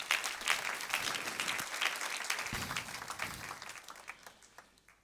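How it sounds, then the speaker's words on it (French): A church congregation applauds with a dense patter of clapping that gradually thins and fades over several seconds. "On peut acclamer cela."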